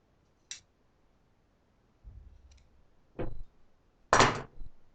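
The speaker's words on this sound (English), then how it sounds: "so just cut away a little bit more." Tailor's scissors trimming excess fabric while draping a shifted shawl collar, giving a few isolated crisp snips and cloth rustles, close and quiet against a silent background.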